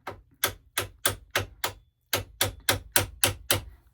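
A hammer taps sharply about a dozen times in an even rhythm, close and clear, with a short pause midway.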